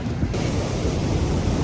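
Sea waves wash in at a fishing spot on the coast, a continuous near rush of surf with wind noise rumbling over the microphone.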